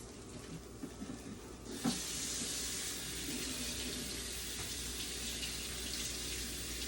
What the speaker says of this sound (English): what I'm doing is just rinsing my plate off is all I'm doing